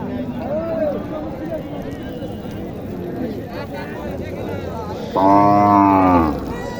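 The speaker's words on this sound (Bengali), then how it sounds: "গরুটা অনেক চমৎকার একটা গরু" Voices talk at an outdoor cattle market, then a loud, drawn-out moo from a Sahiwal cow rises clearly near the end.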